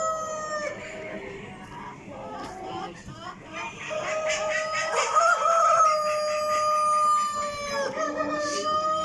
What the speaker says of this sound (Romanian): Foarte mulți cocoși. Neașteptat de mulți cocoși.